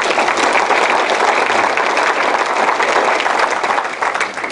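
A large audience applauds during a county state-of-the-county address, a loud, dense and continuous roar of clapping filling the room that eases slightly toward the end.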